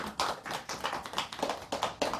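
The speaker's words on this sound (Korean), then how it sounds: "이럴 때 박수 한번 쳐야 되는데" An audience at a Buddhist monk's Dharma talk breaks into a short round of clapping, rapid soft handclaps in a quick uneven rhythm lasting about two seconds, fairly quiet, with no talking.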